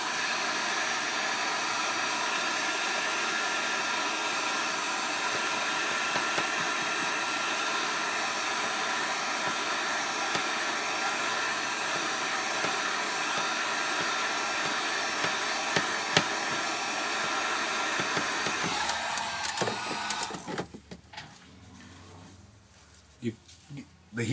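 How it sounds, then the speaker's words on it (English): A heat gun set on low warms a Samsung Galaxy S3 phone, blowing a steady, hissing airflow for most of the stretch before cutting off near the end, followed by a few small clicks and handling sounds. "The heat gun is on low here."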